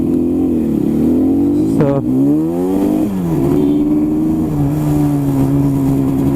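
A Rajdoot 350 motorcycle, just started, revs up sharply then settles into a steady low drone as first gear is engaged, loud and close, with one brief spoken word at the start.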